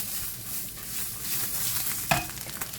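Food sizzles and crackles in a hot pan, a steady frying hiss with a sharp clatter of utensil against the pan near the end.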